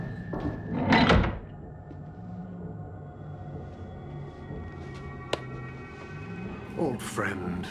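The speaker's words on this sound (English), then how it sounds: "Close the door." A door sliding or swinging shut in a sci-fi TV drama, with a loud rumbling close near the start, a sharp thunk later and another rattle at the end, while people talk.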